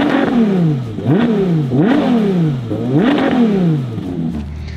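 A Ferrari Monza SP1 single-seater's engine revs hard and loud, several sharp rising blips in quick succession, each climbing and falling back in pitch, close and alone with no talk.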